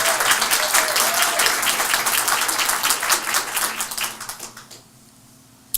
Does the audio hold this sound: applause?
yes